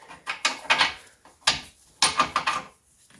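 A bolt being worked free from the front control arm of a Renault Trafic van with a 30mm socket: a series of sharp metallic scrapes and knocks in bursts, close and fairly loud, with no speech.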